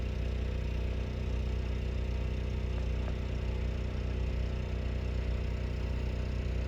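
A Harbor Freight 3-inch gas-powered trash pump runs steadily while draining a pond, its small engine droning at a constant, even idle-like pitch close by, with no talk over it.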